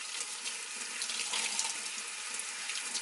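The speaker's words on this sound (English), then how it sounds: "I just add water." Water runs steadily from a tap while makeup brushes and sponges are being rinsed, a continuous close hiss and splash with no talking.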